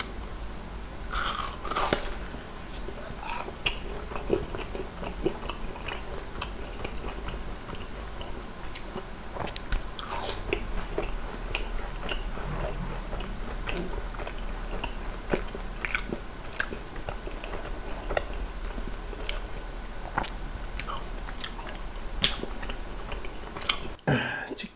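Crispy cream cheese balls from a fried chicken restaurant bitten and chewed up close, with repeated crunchy bites and wet chewing sounds running steadily throughout without talk.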